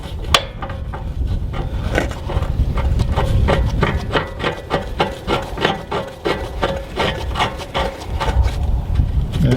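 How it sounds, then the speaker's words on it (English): Metal anode rod sliding and scraping back into the threaded port of a travel trailer's water heater, a close, steady rubbing rasp with a series of quick repeated clicks and scrapes throughout. "you put your anode rod back in there after you inspect it"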